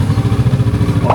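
Kawasaki Ninja 650 twin-cylinder motorcycle engine idling close by in the early morning, a loud, deep, evenly pulsing thrum with a steady rhythmic beat.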